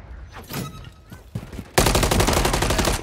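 Call of Duty Modern Warfare 3 multiplayer gunfire: after a quieter stretch of scattered noises and brief voice, a loud, rapid automatic burst erupts and keeps hammering steadily to the end.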